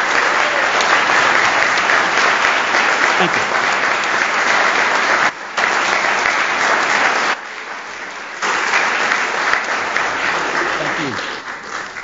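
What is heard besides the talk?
round of applause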